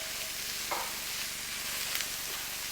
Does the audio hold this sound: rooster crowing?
no